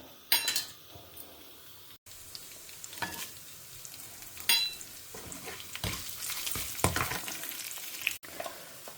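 Mustard seeds, urad dal and chana dal sizzling and crackling in hot oil in a pan as part of a Tamil-style tempering, a steady close frying hiss with sharp pops and occasional stirring clinks, no talking.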